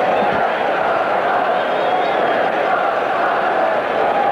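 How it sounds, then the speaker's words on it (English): Loud, continuous roar and chant of a baseball crowd at a 1979 Tigers versus White Sox game in Chicago, a sustained droning mass of voices with no clear individual words. "Listen to the crowd. I can't make out what they're chanting."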